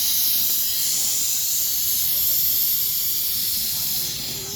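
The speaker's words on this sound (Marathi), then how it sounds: "आता कुकर काढायचं बघा शिट्टी येत आहे त्याला" A pressure cooker on a wood-fired stove vents steam with a loud, continuous hissing whistle that holds steady and tapers slightly at the end.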